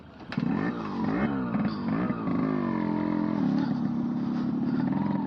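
Yamaha RX100 motorcycle on its stock exhaust, the two-stroke engine revving and pulling through gears with a rasping, buzzy note, close and loud and continuous throughout.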